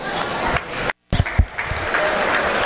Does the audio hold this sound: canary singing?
no